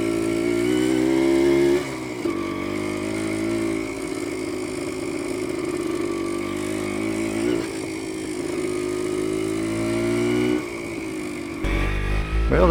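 Kawasaki F7 motorcycle on a test ride, its engine a loud, steady drone throughout with brief dips in pitch as it shifts, close to the microphone and without talk.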